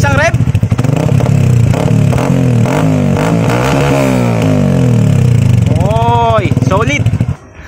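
A Yamaha Sniper 150 motorcycle fitted with an Akrapovic full carbon exhaust and silencer revs loud and close, the engine rising in pitch through a long rev and falling back, then a couple of quick blips before cutting off.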